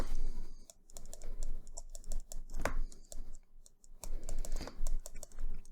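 Rapid typing on a computer keyboard, close and fairly quiet, with irregular clusters of light key clicks and brief pauses between bursts.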